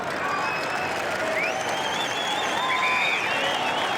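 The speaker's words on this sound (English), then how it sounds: "Round of applause for Hayden Ballantyne" Crowd at an AFL football match, Carlton versus Fremantle, with a broad, steady wash of distant applause and crowd noise throughout, whistles and calls rising over it.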